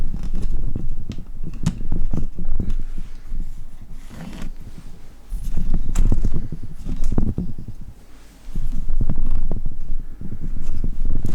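Bolts securing a power supply are worked loose inside a PC case, giving repeated close creaks and metallic scraping in irregular bursts for several seconds, with no talking.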